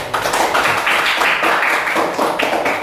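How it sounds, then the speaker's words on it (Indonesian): A classroom of students claps for a student group, a dense, steady patter of many hands filling the room at close range, with no talk over it. "kita berikan tepuk tangan untuk kelompok."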